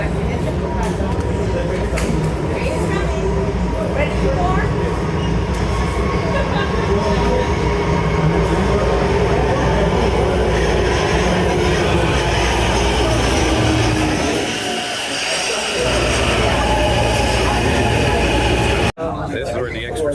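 Los Angeles Metro D Line subway train on its opening day, a steady loud rumble of wheels and motors with air-handling hiss, a brief dip then resuming; no voice over it.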